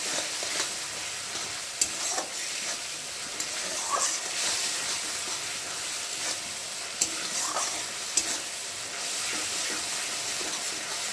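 Mustard paste frying in a pan while being stirred, a continuous close sizzle and hiss with periodic scraping strokes of the spoon every couple of seconds, no one speaking.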